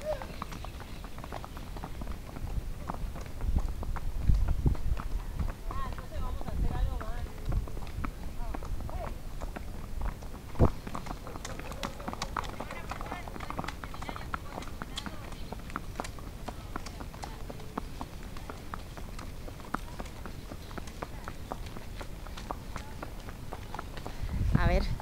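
A dun horse walks outdoors, its hooves clip-clopping in a steady uneven rhythm at close range against light background noise, with people talking nearby.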